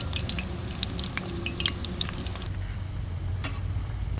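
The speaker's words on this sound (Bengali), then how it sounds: "পিঠে ভাজতে হয় মিঠে জালে।" Sweet potato pitha frying in hot oil gives a steady, close bubbling sizzle with scattered small pops and drips, and no one speaks.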